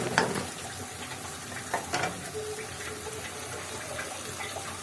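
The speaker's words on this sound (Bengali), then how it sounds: "তারপর আমি একটু বুট ভাজা করে নিচ্ছিলাম" Chickpeas and potato frying together in a pan give a steady, low sizzle throughout, with a few brief louder bursts of stirring and spattering near the start and around the middle.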